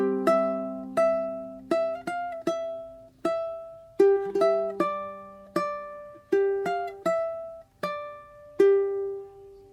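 Ukulele plucked fingerstyle playing a slow bar of a piece, clear single notes and occasional doubled tones ringing out and decaying one after another in an even, gentle rhythm, alone.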